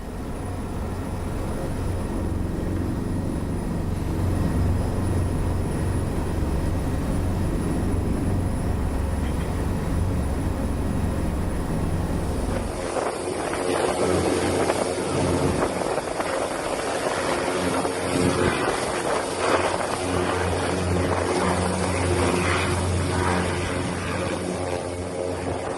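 An Indonesian Air Force Caracal helicopter flies nearby during an aid drop, its engine and rotor making a loud, continuous drone that shifts in character partway through and stays steady to the end, with no talk.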